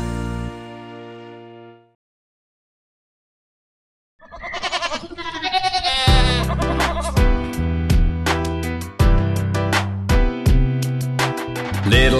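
A single sheep-like bleat opens a children's nursery-rhyme song, loud and wavering for about two seconds before a short silence. Then bright, bouncy music takes over.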